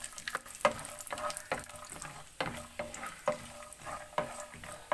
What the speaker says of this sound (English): roast the peanuts in a medium flame